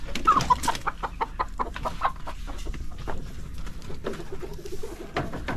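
Brown and white layer hens being given layer feed cluck and coo together, close and busy. Their short calls overlap constantly.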